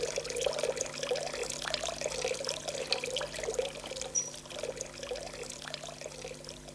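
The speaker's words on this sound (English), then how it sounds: "Look at that! The water's running out." Water drains out of a bathtub in a steady, close trickling gurgle that runs without pause, with faint splashy detail over a low hum.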